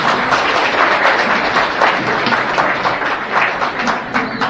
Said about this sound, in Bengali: একটা জোরে হাত তালি হবে